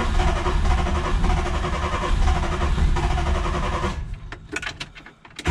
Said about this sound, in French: Tu vois, ça démarre et ça cale